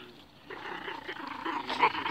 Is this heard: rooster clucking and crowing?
no